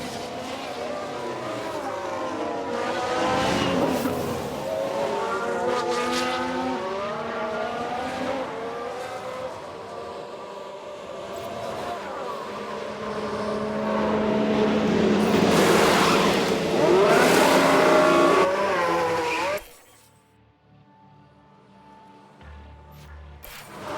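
Formula 1 race cars from the F1 Manager 22 video game, set in a 1992 season with Ferrari, Alpine and Mercedes on track, roar continuously with rising and falling engine pitch, loud and close, before cutting abruptly to quiet near the end.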